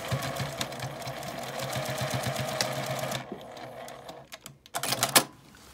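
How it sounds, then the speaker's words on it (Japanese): A sewing machine stitches the bottom edge of a handmade baby backpack, a steady rapid needle rhythm for about three seconds, then short bursts of stitching and handling noise close by. "待ち針で留めたこの下のところを両方ミシンで縫ったら出来上がりです"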